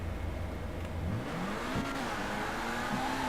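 Car in GTA V revving hard and accelerating from a tire-spinning launch, engine pitch sweeping upward through gear shifts, loud and continuous throughout.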